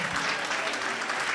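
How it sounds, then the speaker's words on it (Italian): Audience applause for a prize winner at an award ceremony, a steady dense clapping that fills the whole short moment without pause. "Un applauso."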